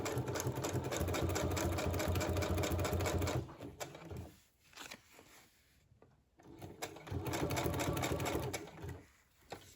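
Sewing machine running a straight stitch and a short back stitch on a fabric journal cover, a steady close mechanical whir that stops briefly, then resumes at full speed.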